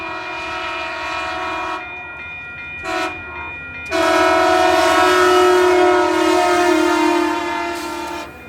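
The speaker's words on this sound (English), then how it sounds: "the next train that we have is a northbound frontrunner being led by MP36" A northbound FrontRunner commuter train led by an MP36 locomotive passes near Salt Lake City, sounding loud sustained horn blasts in several bursts, then a long horn blast and rushing rail noise as it goes by close.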